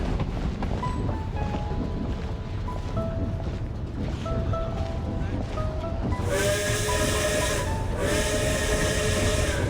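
A steam train in the snowy Snezhnaya region of the Genshin Impact video game rumbles and hisses with clanking metallic tones, then a loud, sustained steam whistle blast cuts in over the chugging.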